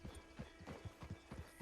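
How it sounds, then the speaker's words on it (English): Horse hooves clip-clopping on a trail in the video game Red Dead Online, a steady rhythmic walking gait of repeated hoof strikes, moderately close and alone without talk. "Just get on the horse when you're good and ready"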